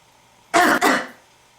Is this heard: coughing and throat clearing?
yes